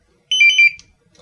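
A short electronic beep from an LI4278 barcode scanner initializing in its cradle, a single bright warbling tone lasting under half a second, close and clear against silence.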